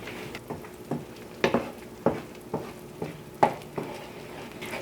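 Spoon stirring sausage mushroom gravy thickening at a simmer in a pan, with about eight steady scraping strokes at a regular rhythm over a low bubbling sizzle, close and moderately loud with no voices.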